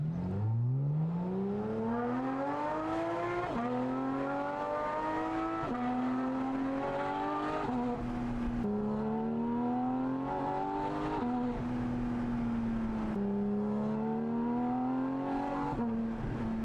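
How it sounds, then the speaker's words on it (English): A Porsche Cayman GT4 RS engine with a valved titanium rear exhaust section climbs through several revving surges, each pull rising in pitch before dropping back, with a deep booming exhaust tone throughout. "you can hear we get more of that motorsport sound and more bass and drama and excitement in the cabin"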